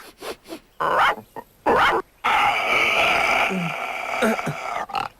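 A young wolf pup in an animated film barks and whimpers in short yips and whines, close and fairly loud, interleaved with a longer stretch of background music or ambience.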